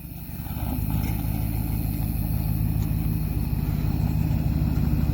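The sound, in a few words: truck engine with new exhaust running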